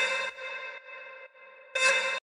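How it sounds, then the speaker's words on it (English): A synth beep layered into the drop of a house track, sounding as sustained bright tonal stabs with a long held middle tone between two louder bursts, clean and up close with no voices. "I added this beep"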